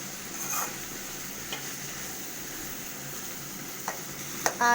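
A tamarind curry frying in a hot pan is stirred with a ladle: a steady sizzle runs throughout, broken by a few light scraping clicks of the spoon against the pan, with no talking.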